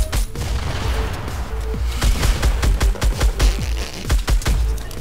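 Rapid gunfire in the Fortnite video game: loud, dense bursts of shots in quick irregular succession over a booming low rumble, continuing throughout with no speech.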